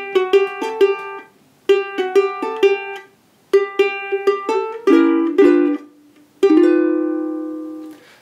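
Ukulele playing the opening four bars of a rag, bright strummed and picked chords in a bouncy ragtime rhythm, close and clear, ending on a ringing sustained chord.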